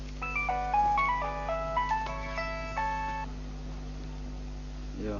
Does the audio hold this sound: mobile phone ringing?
yes